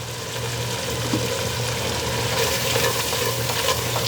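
All-purpose flour stirred into melted butter in a pan for a tuna casserole roux: a continuous close sizzle with soft scraping stir strokes over a low steady hum.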